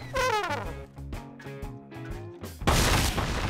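A booming Garry's Mod explosion bursts out near the end, loud and noisy, following a stretch of musical tones and clanking effects.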